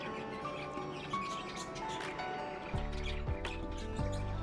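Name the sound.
lovebirds chirping while flying about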